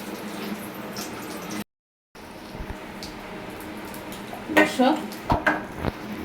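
Mughlai paratha fries slowly in a pan over low heat, a soft steady sizzle with a few louder scraping and clinking touches of a utensil near the end.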